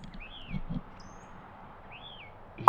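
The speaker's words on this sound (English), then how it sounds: "They're the birds." Two short bird chirps with rising-falling whistles sound faint and distant outdoors over a low background hum, separated by a pause of a second or so, followed by a brief louder knock at the end.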